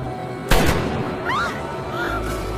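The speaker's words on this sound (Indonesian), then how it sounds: "di mana serangan sniper anak buah Ishak terjadi" A single loud sniper rifle shot in an action film bursts out sharply, followed by a short rumbling tail and a few whooshing, whistling effects against a low background.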